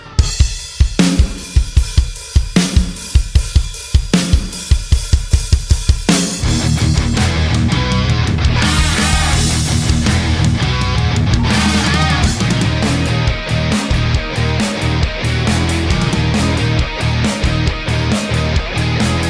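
A punchy rock drum kit: a few seconds of kick and snare hits alone, then the full kit with cymbals crashing in behind a dense mix, loud and close.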